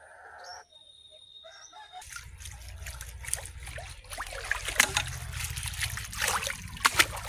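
Water trickles and splashes while freshly caught fish are washed outdoors, a thin running stream with irregular sloshing bursts that grows busier after a quiet start, with a bird calling faintly nearby.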